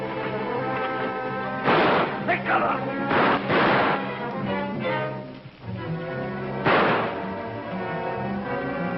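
In a Blue Mosque scene of an old television drama, a few sharp gunshot cracks ring out at uneven intervals, mixed with voices and background sound.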